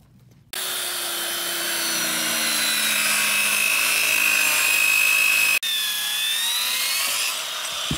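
A power saw rips through a 4-foot sheet of plywood, a loud steady whine starting abruptly, running for about five seconds, cutting out briefly, then resuming to finish the cut.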